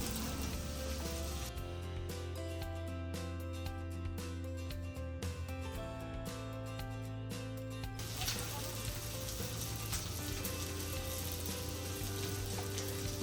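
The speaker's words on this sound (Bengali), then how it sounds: "তারপরে করবে মাছ ভাজা।" Pieces of rui fish frying in hot oil in a home kitchen, giving a steady, moderately quiet sizzle under a continuous tonal background throughout.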